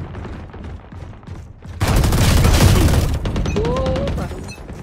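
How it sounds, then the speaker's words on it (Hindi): Rapid automatic gunfire in a shooter match erupts into a dense, loud burst of overlapping shots after scattered earlier pops, easing off toward the end, with someone talking excitedly underneath. "गोलियां पहले चला रहा है"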